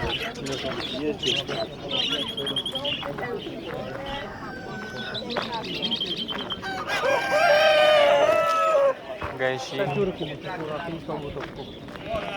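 At a bird market, a rooster lets out one loud, drawn-out crow amid steady clucking from other fowl, with people talking throughout.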